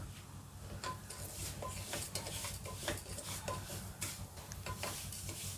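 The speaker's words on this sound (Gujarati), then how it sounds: "1/4 કપ જેટલું ઘી લીધું છે અને એક વાડકી માપે ફાડા લીધા છે। તેની ધીમે આપણે શેકી લઈશું।" Broken wheat roasting in ghee in a pot, with a spoon scraping and clinking against the metal in a steady, busy rhythm over a soft continuous sizzle.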